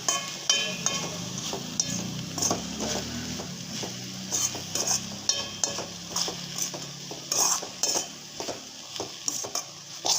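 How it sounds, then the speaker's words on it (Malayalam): Onion, green chilli, beans and salt stirred together in a pan, a continuous low sizzle with frequent scraping and clacking of a spoon against the pan in an uneven rhythm, close and loud, no voices. "ഉള്ളിയും പച്ചമുളകും പയറും ഉപ്പും എല്ലാം കൂടെ നന്നായിട്ടൊന്ന് മിക്സ് ആവുന്ന രീതിയിൽ നമുക്കൊന്ന് ഇളക്കി കൊടുക്കാം"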